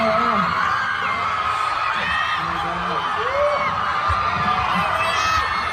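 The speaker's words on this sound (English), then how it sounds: "Let me see if y'all can hear the crowd." Concert crowd at a show, loud and continuous, with overlapping screams, whoops and cheering from many people filling the space throughout.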